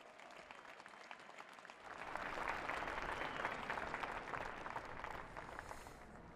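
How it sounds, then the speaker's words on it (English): Sustained applause from a large crowd at a 2024 presidential inauguration ceremony, starting softer and swelling after about two seconds into a dense, steady clapping that carries on to the end, with no speech over it. "let us welcome our President and his address with another round of applause"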